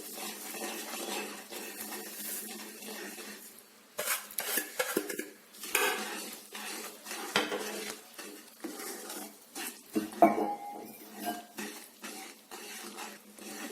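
Roasted semolina being stirred into sugar syrup in a pan for a sweet, with repeated close metal scraping and clattering of a spoon against the pan over a low bubbling sizzle.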